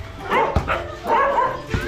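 A large spotted dog barks a few times at close range in short bursts, with people talking nearby.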